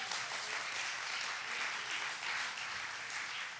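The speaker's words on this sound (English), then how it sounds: "Give yourself some applause." An audience at a spiritual talk claps in a dense, steady round of applause that holds at an even level throughout, with no voices over it.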